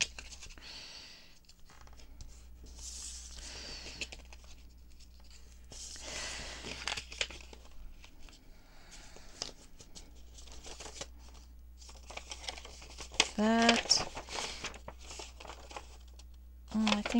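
An oversized book page is folded into an envelope with a bone folder, giving soft paper crinkling and creasing in quiet bursts while someone talks over it.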